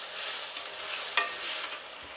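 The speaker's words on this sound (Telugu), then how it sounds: "30 సెకండ్లు అయితేనే టమాటా వేస్తున్నాను" Onion and tomato frying in a pan, a steady soft hiss with a couple of brief stirring scrapes, fairly quiet and with no voices.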